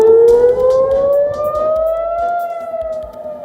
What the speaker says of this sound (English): Siren sound in Jerusalem as Iran launches multiple rounds of missiles towards Israel after Prime Minister Benjamin Netanyahu decl